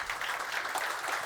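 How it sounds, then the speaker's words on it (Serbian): Audience applauding at a live talk event, a steady, dense patter of clapping from a crowd filling the whole moment, fairly soft and even throughout. "I za nju aplauz"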